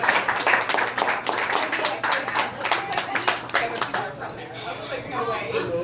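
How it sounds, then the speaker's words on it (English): Warm applause at an awards dinner for Caroline Christine, a crowd clapping briskly at first and then thinning out, with a voice beginning to speak as the clapping fades. "Can you give her a warm round of applause?"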